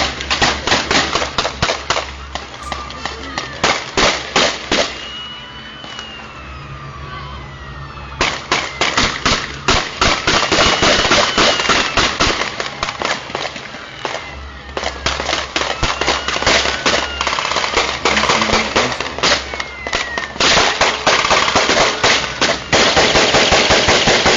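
Gunfire from a shooting at a party, caught on surveillance camera, crackles in rapid loud volleys of many shots, with short pauses between the long bursts and no talking.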